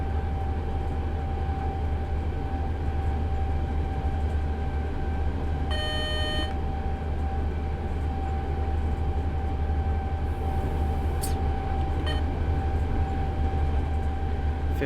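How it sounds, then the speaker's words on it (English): In the Czech train game, a ČD Class 843 railcar rumbles steadily from the cab between Liberec and Stara Paka while another train passes the other way on a nearby line, with a brief horn-like tone midway and no talking. "We'll see another train coming in the other way."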